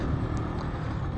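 Keeway Cafe Racer 152 motorcycle engine running steadily at a low, even rumble, close by and continuous with no talking.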